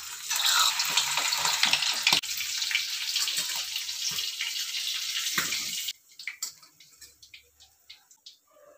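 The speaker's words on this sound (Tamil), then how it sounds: "இப்போ இந்த காடையெல்லாம் போட்டு வறுத்து எடுக்கலாம்." Quail pieces fry in hot oil, a loud, dense sizzle filling the first six seconds, then dropping to quieter crackles and scattered spatters near the pan.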